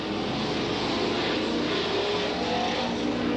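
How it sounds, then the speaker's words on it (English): Late model super stock race cars roar around the track at Freedom during an eight-lap qualifying event in 1993. Engines drone in a steady, dense wall of sound with no break and no talk over it. "for George Ritter in the 72 car, indicating 2 more laps to go in this 8-lap qualifying event for the late model Superstocks."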